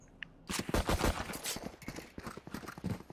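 Rapid bursts of gunfire from a competitive Valorant match, a quick volley of sharp, close shots in uneven rhythm following a short quiet lead-in.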